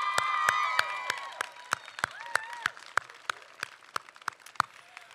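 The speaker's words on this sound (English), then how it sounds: "Let's give all three of our groups another really big round of applause." Audience applause at a spring school music concert, starting as dense clapping with some cheers and then thinning to scattered, sharp individual claps that taper off.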